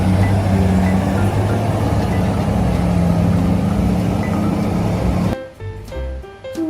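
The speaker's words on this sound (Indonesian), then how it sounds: "di sini ada mobil truk tambang atau mining truk" An RC model mining truck runs with a continuous whirring motor drone and gear buzz that cuts off abruptly near the end, leaving faint clicks.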